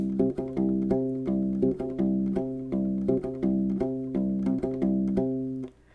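A plucked U-Bass plays a bouncy, repeating disco line of low notes jumping in octaves, close and alone.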